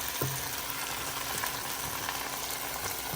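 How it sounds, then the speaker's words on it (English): Onions and garlic fry in a pan with a steady, even sizzle that holds at a constant level, broken by a faint clink or two near the start. "Cook this until the onions are translucent"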